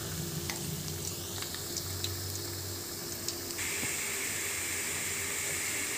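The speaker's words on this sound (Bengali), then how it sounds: "আলুগুলো লাল লাল করে ভেজে নেব।" Potatoes frying in hot oil for a chicken kasha, a steady close sizzle and hiss running alone throughout with a low bubbling hum.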